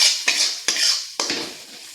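A ground paste of tomato, green chili and poppy seed with onion stirred in a pan, four distinct scraping strokes of a metal spatula with a soft hiss in between, close and clear.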